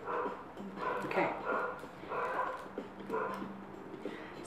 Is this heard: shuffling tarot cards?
no